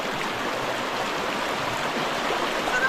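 Mambog River in monsoon season running with a strong current, a loud, dense, steady rushing roar of water close by, unbroken and without voices.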